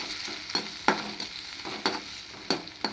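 Tomatoes with salt fry in oil in a pan, a soft continuous sizzle broken by a series of distinct clacks from a spoon stirring and tapping at irregular intervals close by.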